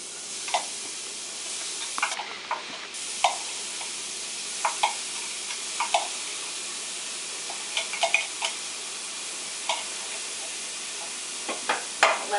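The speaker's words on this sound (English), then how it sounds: "I'm going to saute this for a minute." Mushroom stems, garlic cloves and chopped shallot sauté in olive oil, giving a steady soft sizzle broken by scattered clicks and taps as the pan is stirred over about twelve seconds.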